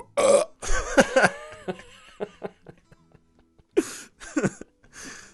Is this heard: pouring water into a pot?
no